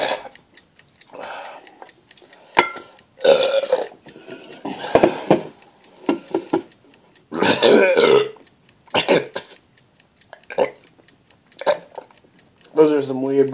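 A person burps repeatedly after chugging expired Coke Zero, with several loud, close, drawn-out belches spaced by short pauses and small clicks and ticks between them.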